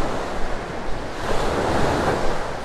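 Waves wash onto the sand at Vanderbilt Beach in North Naples, Florida, a close, steady surf roar mixed with wind buffeting the microphone.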